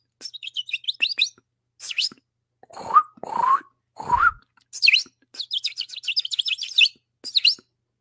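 Bird chirps and tweets come in quick rapid bursts, loud and close, broken by a few lower whistling or grunting calls in the middle.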